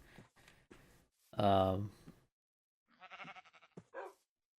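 A Minecraft sheep bleats once in a loud wavering call, surrounded by short game sound effects and brief bursts of speech.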